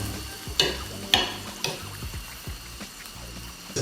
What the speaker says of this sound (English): And mix it nicely.